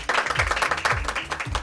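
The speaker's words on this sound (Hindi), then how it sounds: "भरपूर क्लैप करें ग्रीन क्रिसेंट के लिए।" An audience claps for the Green Crescent Trust, a steady burst of many hands applauding close by through the whole stretch, with a voice briefly audible underneath.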